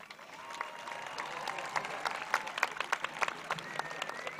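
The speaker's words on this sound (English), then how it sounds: "Please join me in giving the class of 2020 a thunderous round of applause." Graduation-ceremony applause for the class of 2020 at Misr Language Schools International, a steady wash of clapping from a crowd at moderate distance, holding through the moment with scattered sharper claps rising toward the end.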